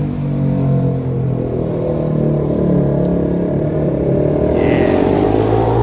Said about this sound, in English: we have a bike going by.